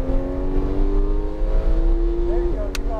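A Ferrari race car on Palm Beach Speedway: a loud, steady high-pitched engine drone from close by fills the whole stretch, easing slightly near the end, with a voice faintly under it.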